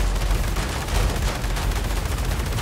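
Continuous rapid weapon fire from robot combat in the video game War Robots: Frontiers, a dense, loud, unbroken barrage with no pauses across the whole stretch.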